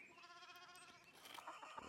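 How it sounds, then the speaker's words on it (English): Sheep bleat in the video game Pentiment, a drawn-out wavering bleat followed by noisier animal calls, quiet and close, with no talking. "We have sheep!"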